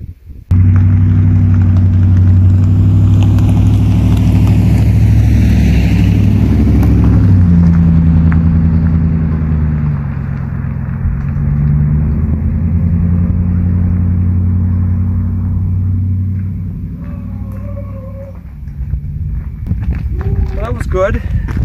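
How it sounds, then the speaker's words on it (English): A vehicle passes a mule pulling a cart on a road, a loud low engine rumble that rises and slowly fades, followed by soft hoof or footstep sounds, while a person talks throughout. "met her first vehicle on the road"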